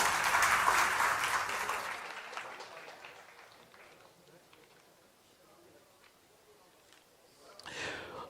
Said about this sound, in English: a huge round of applause to Neha and the Internet Sathis, Lakshmi, Parvati and Chameli